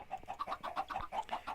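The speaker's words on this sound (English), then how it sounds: "There we go, the chorus of chickens." A flock of chickens in the Minecraft video game cluck repeatedly in a quick, even rhythm, a steady chorus of short clucks with no talking.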